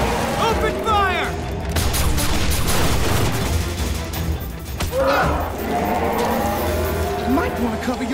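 Gunfire in an animated G.I. Joe Renegades episode, a dense fusillade of shots and booms layered under shouting voices and a rumbling action score.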